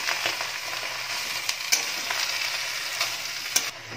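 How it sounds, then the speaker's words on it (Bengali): Chickpea greens (cholar shak) tossed in a hot pan, a steady crackling sizzle with intermittent scrapes and taps of a spatula as they are stirred. "এবার ভালো করে শাকটাকে একটু নাড়াচাড়া করে নিচ্ছি।"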